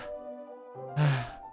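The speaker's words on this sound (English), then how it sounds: "A sharp inhale, like someone is sucking the air through their teeth." A sharp, hissing inhale drawn through clenched teeth, heard once over a quiet sustained music bed in the visual novel Doki Doki Literature Club Plus, the breath rising abruptly and briefly near the end.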